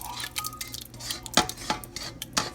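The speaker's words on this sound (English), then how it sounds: "Then you just dump everything in the pot with the beans." Chilli ingredients are tipped into a cooking pot of beans, producing a few clanking, scraping bursts of metal cookware and utensils, with one sharper knock near the middle, over a low steady hum.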